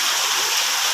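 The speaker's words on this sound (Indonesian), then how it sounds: "air hujannya diambil, disediakan wadah ya, wadah untuk menampung air hujan" Rain pours steadily onto a surface while rainwater is collected in a container, a dense continuous hiss with no breaks, close and loud, and no voices.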